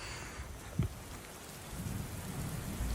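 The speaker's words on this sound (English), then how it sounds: "a gift from the skies. Rain, finally." Steady rain falls around a car parked at the Cabana Bay apartments, a soft continuous patter that thickens toward the end, with one brief louder knock near the start.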